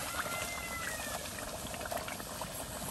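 Food boiling and bubbling in oil in a home cooking pot, a steady, close sizzling hiss with no pauses and a few faint higher-pitched squeaks over the top.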